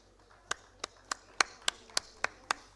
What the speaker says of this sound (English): Kindly join in for the claps.